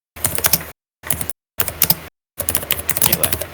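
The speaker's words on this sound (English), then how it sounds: "Oh my god, the aggressive typing. I hear it." Aggressive typing on a keyboard: fast, hard clattering keystrokes in four separate bursts with short silent gaps, close and loud, with no talking.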